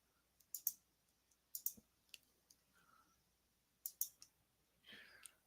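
Several sharp computer mouse clicks, some in quick double pairs, spaced across a quiet stretch while a player works through team pitching stats in an APBA baseball game, with faint desk noise between the clicks.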